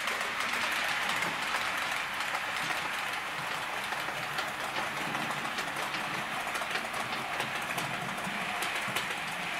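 Bachmann Class 411 4 CEP four-car EMU model train running over track points, a steady close mechanical whir with light rhythmic clicking throughout.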